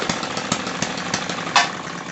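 A RETROL & MUSA HM-01 hit-and-miss stationary engine runs loud and close, its rhythmic chugging firing pulses coming at a steady beat, with a brief rougher burst partway through.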